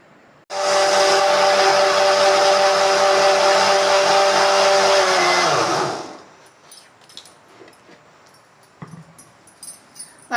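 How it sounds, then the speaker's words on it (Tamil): A mixer grinder grinding coconut chutney runs loud and close with a steady high whine for about five seconds, then winds down and stops, followed by faint kitchen clatter. "இப்போ அரைச்சிக்கலாம்."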